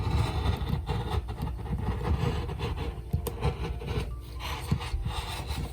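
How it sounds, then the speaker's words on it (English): Scissors cut fabric off at the armpit of a garment to make weaving strips, giving a close, steady rough rubbing and snipping texture that continues without pause and without any talking. "I'm starting at the armpit and I'm cutting all my fabric off."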